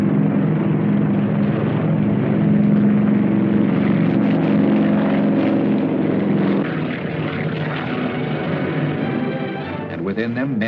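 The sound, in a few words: transport planes taking off towing twin gliders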